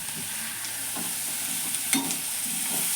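Sliced onions and green chillies hit a hot frying pan with ridge gourd, giving a soft continuous sizzle with repeated scraping stirs of a spatula, close and fairly quiet, no voices.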